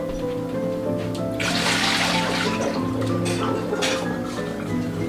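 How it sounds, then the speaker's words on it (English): Water poured over a cup of pine needles in a container, a steady splashing pour with a burst of louder gushing midway, over a low hum, with people talking quietly. "I'm just going to add a little more water till it reaches the top of our pine needles"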